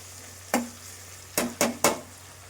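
Spices splutter in hot oil for a fish curry, with four sharp pops over a quiet background sizzle, one alone and then three in quick succession.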